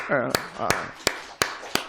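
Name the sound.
church congregation clapping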